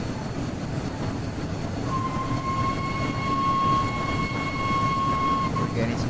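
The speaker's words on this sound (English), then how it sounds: "the sounds of the wheels on the rails." Steady low rumble of the Flying Scotsman steam locomotive's wheels rolling on rails in a video game, with a faint sustained horn-like tone running through the middle.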